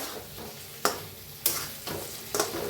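Stuffed brinjal masala stirred in a frying pan, a steady sizzle broken by three sharp spatula scrapes against the pan, close and alone.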